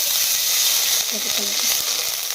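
Butter sizzles in a hot pan on a home stove, a bright continuous hiss close up with a soft voice speaking briefly beneath it.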